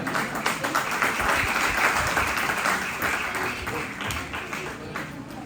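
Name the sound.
children clapping, applause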